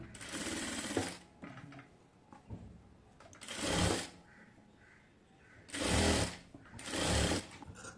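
A sewing machine stitches ribbon onto a baby frock in four short, rapid mechanical bursts, close by, with quiet pauses between runs.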